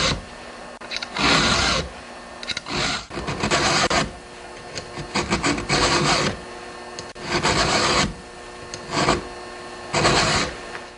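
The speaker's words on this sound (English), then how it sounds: "Now you want to insert your file in the teeth of the chain." A round file sharpens chainsaw chain teeth in a steady series of rasping forward strokes, about a dozen close scrapes separated by brief pauses.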